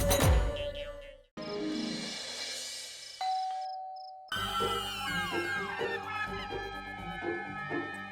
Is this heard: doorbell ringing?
yes